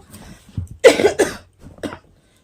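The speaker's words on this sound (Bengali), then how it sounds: "সরি প্রচণ্ড কাশি হচ্ছে" A person nearby coughs hard in a short cluster of about four harsh, chesty bursts, with a slight throat-clearing rasp and brief pauses between them, then falls quiet.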